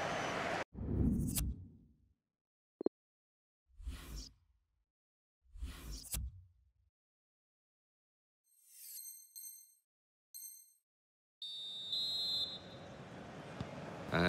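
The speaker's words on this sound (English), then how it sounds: "the referee's blown his whistle, and we're off for the second half" A referee in the FIFA 20 football video game sounds a few short, shrill whistle blasts to start the second half, set among scattered game effects, with a burst of stadium crowd noise following.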